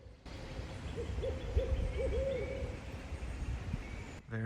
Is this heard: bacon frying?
no